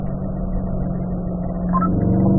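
A car on a racetrack holds steady in fourth gear, its mid-pitched engine droning continuously with a slight rise in revs toward the end, close and alone.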